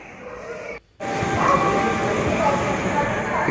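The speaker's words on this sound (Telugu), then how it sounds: "తిరుపతి నుంచి లింగంపల్లి వెళ్తుంది ఈ ట్రైన్" A Tirupati to Lingampalli train at a station platform, giving off a steady loud rumbling hiss after a brief dip, with a voice talking over the noise.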